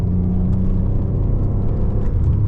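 An Alfa Romeo Spider 916 3.0L 24V V6 engine hums and rumbles steadily up close, a loud continuous drone with no voices.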